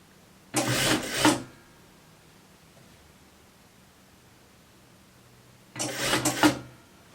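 A sewing machine runs through a couple of passes over a bow on a beginner's fleece sweatshirt-and-skirt set, two short bursts of whirring stitching separated by a long quiet pause.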